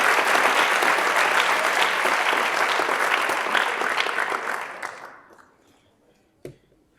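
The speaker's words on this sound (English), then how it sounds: "give them one more round of applause" Audience at a teacher of the year awards show applauding sponsors, a full, loud crowd of clapping that holds steady, then fades out over a couple of seconds, leaving near silence and a single sharp tap.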